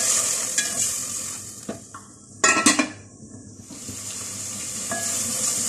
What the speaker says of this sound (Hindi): थोड़ा सा पानी डाल के इसका मसाला भून लेते हैं।